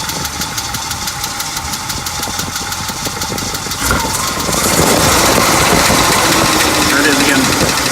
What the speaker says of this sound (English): So we can hear like a low little tapping noise here.